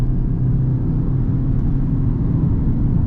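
A 2024 Toyota Corolla Altis Premium Hybrid accelerating, heard from the cabin as a steady, close low hum and rumble that holds without any sharp revving.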